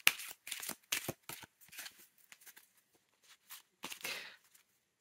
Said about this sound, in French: on va se faire un petit tirage. On va prendre 3 cartes.